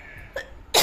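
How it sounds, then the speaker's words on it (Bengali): A single sharp cough from someone with a cold bursts out loud and close at the end, after a quiet room with only faint throat sounds. "আর আমার ঠান্ডাও লেগেছে, একটু কাশি হচ্ছে"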